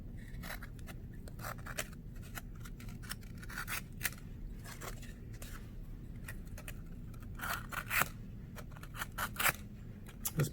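A dull blade slices through cardboard for a sculpture, giving repeated close scraping and snipping strokes in irregular bursts, louder near the end, over a low steady background hum.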